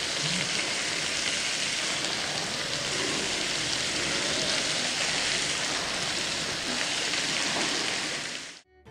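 Finely chopped spinach sizzles with onion in hot coconut oil, a steady, dense crackle like rain that holds evenly before cutting off abruptly.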